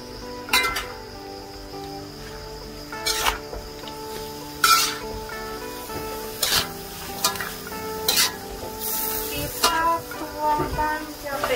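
Wild boar intestines with guava leaves are stirred in a pan, giving a series of sharp scraping and clinking strokes at irregular intervals, with a person talking in between.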